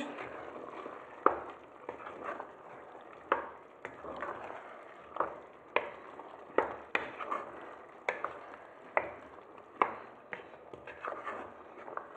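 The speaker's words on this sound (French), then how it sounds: "On ajoute le curcuma, les fenouils, du poivre rouge. On mélange." Spoon stirring turmeric, fennel and red pepper into a simmering pot of red lentil soup, with repeated soft scraping strokes and light clicks at a steady, moderate pace, close and alone.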